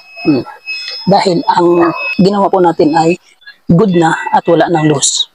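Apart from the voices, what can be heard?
continuity tester buzzer sounding continuously while testing electric fan plug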